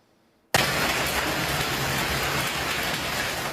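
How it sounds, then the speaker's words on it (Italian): Violent hailstorm with golf-ball-sized hailstones in the Treviso area, beginning abruptly after a moment of quiet and continuing as a loud, dense, even roar of hail hammering surfaces, with no voices. "Violenta grandinata con delle palline da golf."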